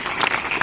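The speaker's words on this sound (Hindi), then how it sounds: "ताली बजाओ बेटा।" Schoolchildren clapping together at a patriotic song programme in a school hall, a dense, steady burst of applause lasting under a second.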